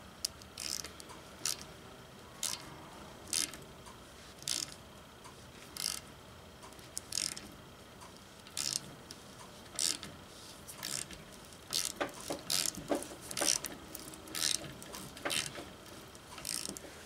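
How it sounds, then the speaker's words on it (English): A hand tap cuts threads into motor mount holes for 1/2-inch bolts on a diesel Ford engine swap, giving faint irregular ratcheting clicks and metallic ticks over a quiet shop background, busier toward the end. "all 4 of these holes on each mount I gotta tap them out so that they'll fit a 1/2-inch bolt"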